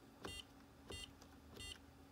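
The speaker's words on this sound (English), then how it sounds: "if I press enter, it will beep." Three short electronic beeps from an HP Chromebox, evenly spaced and fairly faint, sounding alone in a quiet room.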